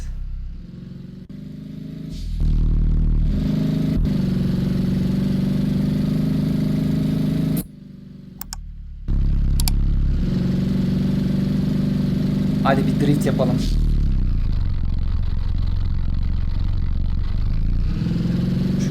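Honda Civic engine idling in a driving simulator game, a steady loud mid-pitched drone with a brief drop partway through and slight changes in tone, no talking.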